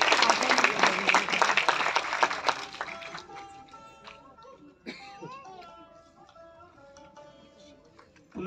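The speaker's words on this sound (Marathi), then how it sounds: "पुन्हा एकदा टाळ्या होऊ द्या" Audience applause at a Konkan award ceremony honouring a journalist, a thick burst of clapping for about three seconds that quickly dies away into scattered claps, murmurs and faint room noise.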